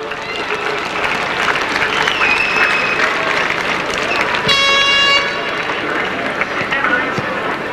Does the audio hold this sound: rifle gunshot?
no